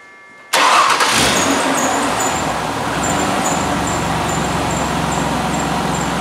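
A Ford Escape with EGR valve problems cranks and catches abruptly after a quiet moment, then settles into a steady, loud idle heard close by.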